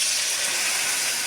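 Water hits a frying spice paste of turmeric and chili powder in a pan, a loud, close, continuous hissing sizzle that holds steady through the short moment.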